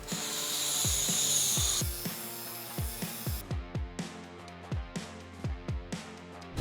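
A piece of wood is cut for a DIY rust repair on a Mazda sill: a loud, close burst of sawing noise gives way to a rapid, steady series of sharp ratcheting clicks.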